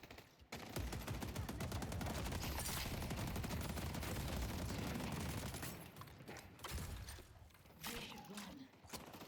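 Spirit turrets in the game Deadlock firing in a dense, continuous rattle of rapid shots, loud and close, with brief breaks and smaller bursts toward the end.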